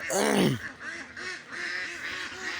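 Several ducks quack close by in a busy, overlapping chorus, one loud call at the start followed by repeated rapid quacks.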